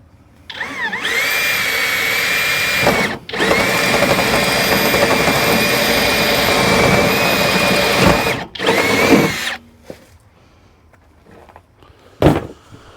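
Power drill boring a half-inch hole for a bonding bridge during a Generac 200A transfer switch install, a loud close whine running steadily for several seconds with two brief stops, then a few clunks.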